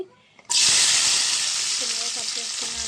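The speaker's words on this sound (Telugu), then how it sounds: "ఈ ఉల్లిపాయలను అయితే బాగా ఫ్రై చేసుకుందామండి బాగా డీప్ ఫ్రై గోల్డ్ కలర్లో వచ్చేంత వరకు ఫ్రై చేసేసుకుందాం" Sliced onions hit hot oil in a pan, frying for chicken biryani. A sudden loud, close sizzle bursts out after a brief quiet moment, then holds steady and crackling.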